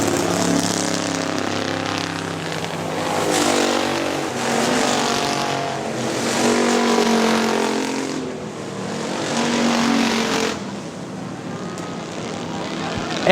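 Factory stock cars racing at Hartford Speedway Park, engines roaring loudly as the pack passes, swelling and fading in waves, with an announcer calling the race over the top.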